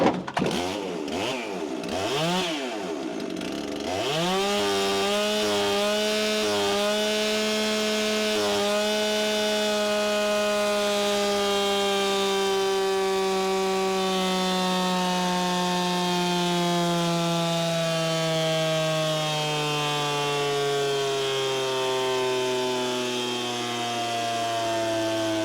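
Holzfforma Farmertec kit chainsaw, tuned rich, revving on a dyno: a few short blips, then a steady loud high-pitched engine scream held for about twenty seconds, pitch slowly sagging under load, with no talk.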